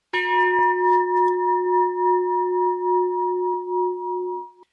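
A single bell or gong in a studio is struck once and rings on in a clear, sustained tone with steady overtones, slowly fading over several seconds, alone and close.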